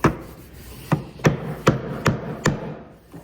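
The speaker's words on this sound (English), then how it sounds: "I'm gonna pop a chisel into it, into one of them" A chisel tapped into a wooden joint to probe a plug or dowel: seven sharp, close knocks at a roughly steady pace, each a crisp woody hit with a short ring, no talking.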